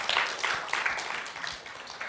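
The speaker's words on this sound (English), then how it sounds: "Let's give them a big hand of applause." An audience at a youth awards ceremony in Monterey Park claps, a brief burst of dense, steady applause from a crowd, fairly faint.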